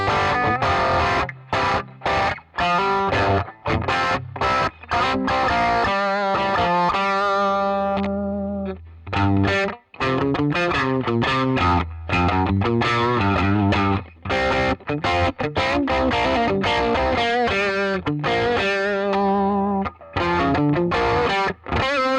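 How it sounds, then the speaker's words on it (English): A Gretsch guitar with P90 pickups, run through a Klon-style Tumnus overdrive into a Fender Deluxe Reverb amp, plays crunchy chords and single-note lines with a slight drive and reverb tail, alone and steady for over twenty seconds. "we're going to go a Gretsch with P90s into the Tumnus into a Fender Deluxe Reverb"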